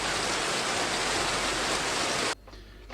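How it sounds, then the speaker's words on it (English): Steady heavy rain pours in a loud, dense wash for over two seconds, then cuts off abruptly to near quiet. "I don't like rain."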